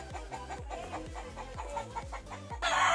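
Chickens clucking in a steady, repeated rhythm close by, with a brief louder burst of noise near the end.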